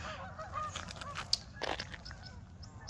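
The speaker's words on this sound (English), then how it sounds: "there is a bunch of geese" A flock of geese flies over a partly frozen park lake in winter, their honks faint and distant. Scattered calls overlap against a quiet outdoor background.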